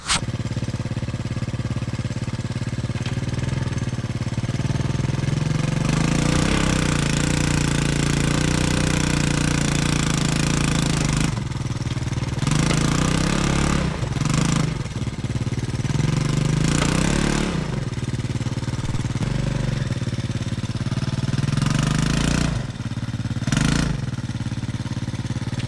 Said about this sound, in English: it's a little three-wheeler, but it's got a low gear, and it's actually really stout in that low gear